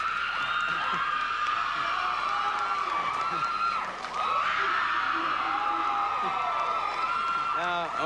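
A television studio audience at a talk show with Vanilla Ice as the guest screams and cheers in a loud, unbroken roar, with a brief dip before it surges again.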